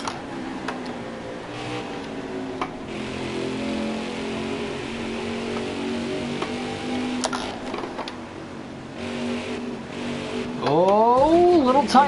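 Race car engine in NASCAR Heat 4 at Watkins Glen, holding a steady drone under talk, then rising sharply through a gear change near the end with a climbing rev sweep.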